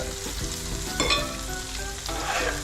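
Cashews and curry leaves crackle and sizzle in hot coconut oil as the tempering is poured over a Kerala-style chicken-veg kurma, a steady frying hiss with louder bursts of spattering and a few clinks.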